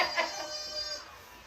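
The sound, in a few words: chicken clucking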